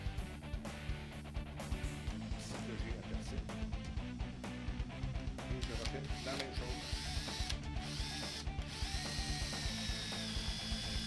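A drill bit bores into very resistant tool steel at reduced speed, lubricated with drilling and tapping wax, giving a steady grinding, whining power-tool drone with shifting squeals throughout, with no voices.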